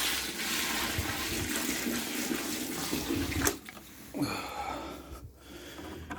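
Water pours for ducks on a ranch, a gushing splash that runs for several seconds, cuts off, then returns in a shorter burst, fairly quiet with no talking.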